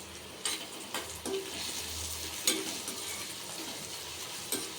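Onions frying with slit green chilies and curry leaves, a soft steady sizzle broken by several sharp spoon scrapes and taps against the pan as they are stirred, close and alone.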